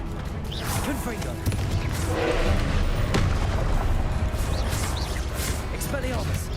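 Confringo fire spell blasts in the video game Hogwarts Legacy, a dense rumble of booms and crackling impacts over loud combat noise, with a voice shouting spell names throughout.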